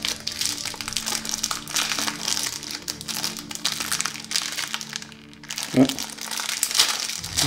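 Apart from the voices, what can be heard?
opening plastic wrap of a board game expansion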